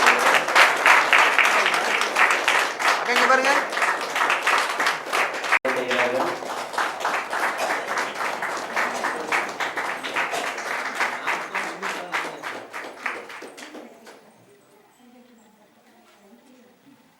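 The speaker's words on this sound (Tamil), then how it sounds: "பலத்த கைத்தட்டலோடு பாருங்க" Audience at the 13th anniversary celebration of the Kumaraguru astrology research centre breaking into loud, sustained applause under a speaking voice, then fading to scattered claps near the end.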